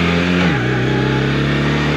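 A Honda CB450T motorcycle engine bogs while being ridden, a loud, close steady drone whose pitch drops abruptly about halfway through and then holds at a lower, labouring tone.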